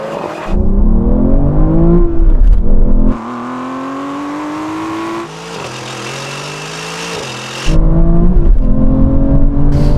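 Aston Martin V12 cars in a drag race, loud engines revving and accelerating with rising pitch through gear changes, a brief quieter stretch mid-run before the roar surges again close by.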